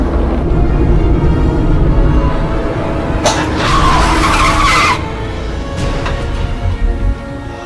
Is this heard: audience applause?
no